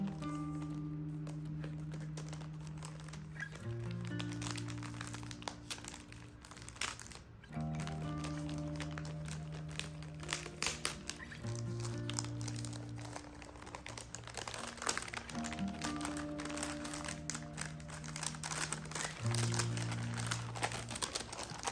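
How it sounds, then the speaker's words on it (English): Paper wrapped around a book crinkles and rustles softly as it is unwrapped, with faint, scattered crackles under quiet background music. "Let's unwrap this."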